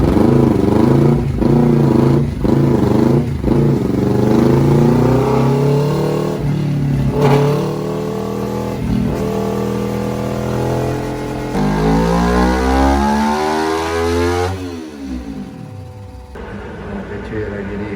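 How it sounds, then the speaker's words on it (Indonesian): A Honda CBR 280cc motorcycle engine revs hard on a dyno in repeated bursts, pitch climbing and falling, loud and close with a mechanical clatter underneath. "langsung aja kita geber-geberin cuy"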